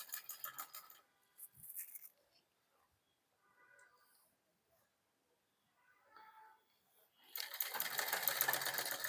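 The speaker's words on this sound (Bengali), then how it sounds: "তাহলে কাপড়টাকে আমাকে ধ্যান দিয়ে একটু সেলাইটা করতে হবে।" Sewing machine stitching a shirt collar, a fast whirring run of stitches at the start, short bursts in the middle, then a longer loud run at the end, close by, with quiet handling sounds between.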